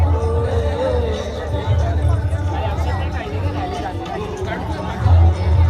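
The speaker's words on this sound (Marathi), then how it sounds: "गेट ऑफ इंडियाला पण जाम म्हणजे पक्कीच गर्दी असते." Dense crowd chatter at the Gateway of India in Mumbai, a steady wash of many overlapping voices, close and loud throughout, with no single voice standing out.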